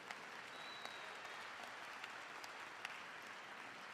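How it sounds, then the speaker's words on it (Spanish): Church congregation applauding the Lord at a morning service, a steady, fairly faint spread of crowd clapping with a few sharper individual claps standing out, continuous throughout; no talking. "Dale un aplauso al Señor en esta mañana."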